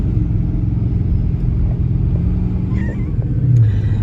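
A moving truck's engine rumbles steadily and loudly close by, with the low drone shifting as the transmission downshifts near the end; no talking.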